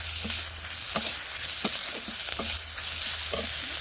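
Vegetables frying in a pan with salt, turmeric and ground cumin and chili, a steady close sizzle broken by repeated scraping stirs of a utensil against the pan, with no talk over it.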